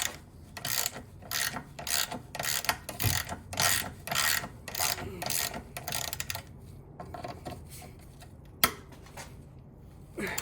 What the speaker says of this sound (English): I'm gonna start by removing these 13mm nuts.